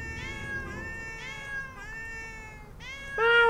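A cat in the video game Final Cut meows several times in a row, clear, drawn-out tonal calls rising and falling, with a louder, sharper meow at the end, alone without any talking.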